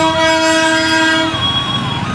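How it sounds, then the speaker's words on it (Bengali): A train passes Batasia Loop in Darjeeling, sounding loud, sustained horn tones over a steady rumble of moving wagons. No one speaks. "এই হচ্ছে ট্রেন চলে যাচ্ছে।"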